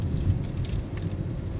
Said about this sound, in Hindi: क्या जोरदार बारिश है